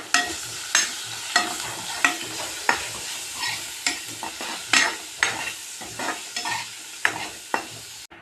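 Onions with green chillies and salt frying in a pan for chithranna, sizzling steadily while a spoon stirs and scrapes in regular sharp strokes about once a second, close and clear.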